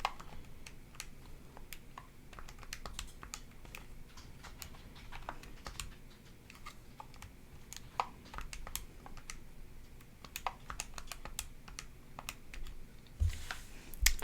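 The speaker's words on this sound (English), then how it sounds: "I'll give you a second to type that in your calculator." Calculator keys being pressed in quick, irregular bursts of small dry clicks, close and quiet, running steadily throughout with no voices.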